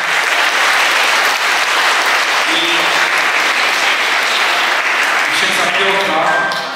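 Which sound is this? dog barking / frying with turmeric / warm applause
warm applause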